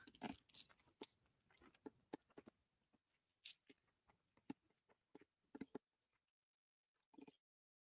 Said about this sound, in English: No one wants to hear me chew my food.